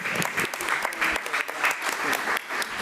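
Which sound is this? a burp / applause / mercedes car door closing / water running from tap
applause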